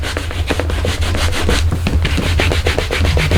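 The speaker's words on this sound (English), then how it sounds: "I'm going to bring that Stampin' Scrub back over and just clean this off again real quick." A stamp being scrubbed back and forth on a Stampin' Scrub pad to clean off ink, rapid close rubbing strokes in a steady rhythm with no talk.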